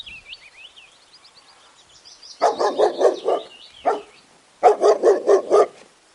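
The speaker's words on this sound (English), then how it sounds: "D for dog." A dog barks in two quick bursts of about five sharp barks each, close and loud, after a stretch of high chirping sounds in a children's alphabet rhyme.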